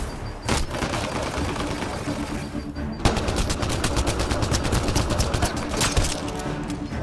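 Rapid automatic gunfire in the Mass Effect: Andromeda video game, dense bursts of loud shots crackling nearly continuously, with a short lull before a heavier, sustained barrage resumes.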